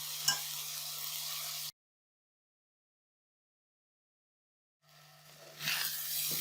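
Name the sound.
ground chicken keema frying in pan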